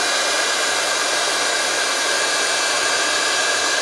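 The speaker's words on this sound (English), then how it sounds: "When you're heat embossing, it's a good idea to just leave your tool in one place until the images are heated." Heat embossing tool blowing a steady, loud, even rush of hot air over a diorama background, continuous and unbroken with no voices.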